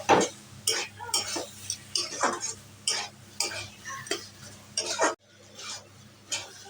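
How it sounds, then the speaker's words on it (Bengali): Banana flower and chickpea curry with garam masala and ghee is stirred in a pan, with evenly spaced scraping strokes of a spoon against the metal over a faint sizzle, close by. "একটু গরম মশলা একটু ঘি দিয়ে নাড়িয়ে ফেলি"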